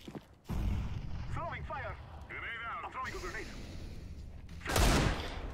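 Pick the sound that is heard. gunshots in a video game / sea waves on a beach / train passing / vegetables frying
gunshots in a video game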